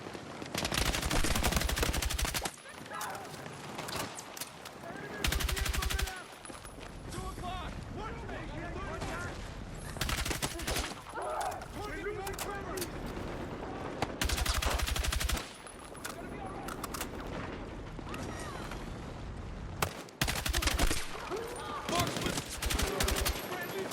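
Bursts of automatic gunfire in a Battlefield 6 campaign firefight, loud sustained volleys in several clusters with dense battle noise between them and shouted voices underneath.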